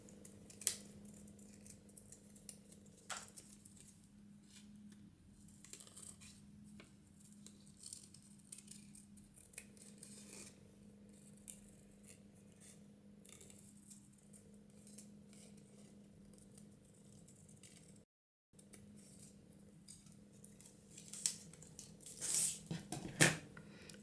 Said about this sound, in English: I'm just gonna trim this, trim the green part out